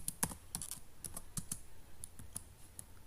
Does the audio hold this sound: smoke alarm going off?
no